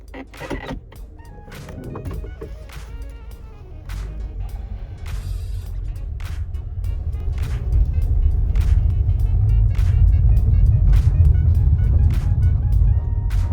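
A 2014–2019 Toyota Corolla rolls slowly during a brake test after a rear brake replacement, its low engine and road rumble steadily building, with faint clicks and brief mechanical noises on top and no squeal.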